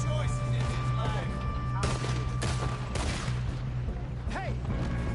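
Rapid gunfire in Red Dead Redemption 2 during a train robbery shootout, shots cracking repeatedly over a steady low engine rumble while voices shout at times.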